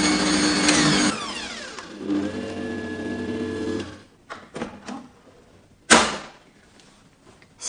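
An electric hand mixer whips cream for a chocolate layer cake, whirring loudly for a few seconds, then stopping, followed by a series of short bursts and clicks as it restarts briefly.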